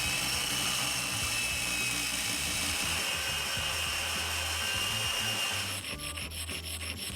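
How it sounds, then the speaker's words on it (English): A high-speed steel tool blank is ground to form a cutting edge for a mini lathe. A steady, close, continuous abrasive grinding hiss with a thin whine runs throughout, shifting texture near the end. "meaning you have to grind your own cutting edge."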